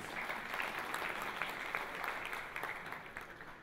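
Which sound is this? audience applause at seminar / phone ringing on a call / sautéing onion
audience applause at seminar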